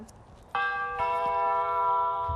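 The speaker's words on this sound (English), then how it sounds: "they had one doorbell ring on this camera here that they weren't expecting" A doorbell chime picked up by a home security camera in Alaska rings out loud and clear, a sustained two-tone ding-dong that rings on with no voices.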